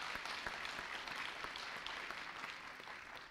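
A crowd at a business fair applauds someone speaker, steady continuous clapping from many hands heard at a moderate distance.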